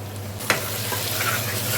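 Masala paste for chicken biryani, with tomatoes, sizzles in a pan while a spoon stirs it. A sharp scrape sounds near the start, then steady close frying hiss continues under a low hum.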